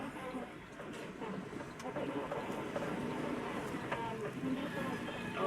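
A light rail train rumbles past nearby, a steady dense roar with faint rattling and clatter throughout.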